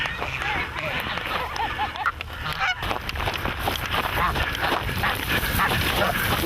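Wild geese honk repeatedly in a loud, overlapping chorus, with rapid calls over a steady outdoor rumble and a voice talking in the background.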